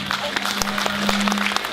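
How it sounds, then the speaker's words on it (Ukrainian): An audience at a New Year and Christmas village stage concert applauds in a dense, even wash of clapping, with a voice and a sustained tone sounding over it. "Зустрічайте бурхливими оплесками"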